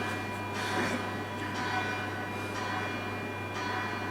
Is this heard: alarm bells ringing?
yes